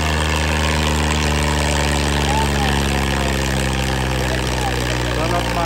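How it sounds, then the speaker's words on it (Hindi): A heavy tractor engine labours uphill with a deep, steady, loud drone, straining continuously without letting up. "अटक के मार रहा है ट्रैक्टर"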